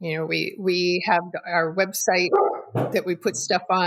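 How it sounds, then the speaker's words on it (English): A dog barks and yips repeatedly in a quick, insistent run, close and loud, layered under a person talking. "That's my dog."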